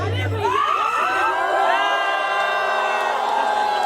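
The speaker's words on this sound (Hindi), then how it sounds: "अच्छा, कितने लोग हैं जो हिमांशु जी की तरफ से बिल्कुल चिल्लाना चाहते हैं," Guests at a traditional engagement party shout and cheer together in a loud, sustained crowd roar of whoops and yells lasting several seconds.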